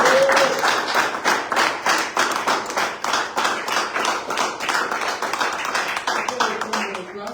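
A church congregation claps in praise of Jesus Christ, a loud, steady, rhythmic beat of many hands keeping even time throughout, with voices faintly mixed in underneath.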